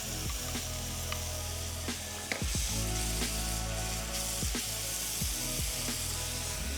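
A tomato sofrito cooking with Albariño wine in a pan gives a steady close sizzle and bubbling, broken by a few sharp clacks of a utensil stirring.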